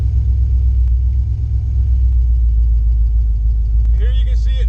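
The red truck, under tuning work, drives around with a steady loud low engine rumble heard from inside the cab, and a person talks briefly near the end.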